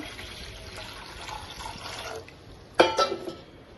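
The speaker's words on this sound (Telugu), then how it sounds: "స్టవ్ పైన ఒక గిన్నె పెట్టుకుని అందులో కొన్ని వాటర్ పోసుకుందాము" Water pours into a pot on a stove nearby, a soft trickle building to a louder splashing gush near the end.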